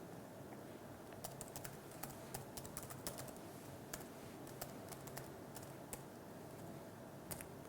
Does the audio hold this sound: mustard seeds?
no